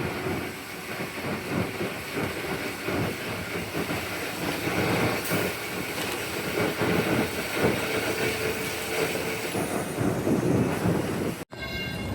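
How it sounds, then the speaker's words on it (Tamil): A train pulls into Tirupati railway station with a continuous rolling rumble and clatter of wheels and cars, heard close for the whole stretch before cutting off abruptly. "நம்ம ட்ரெயின் இப்போ தான் வந்துச்சு"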